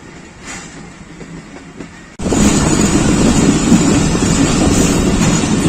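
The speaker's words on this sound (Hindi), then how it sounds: "पाकिस्तान एक्सप्रेस लालामुसा जंक्शन पर पहुंच रही है।" The Pakistan Express arrives at Lalamusa Junction. A low hum gives way abruptly to a loud, close rumble of rolling railcars, buffeted by wind noise.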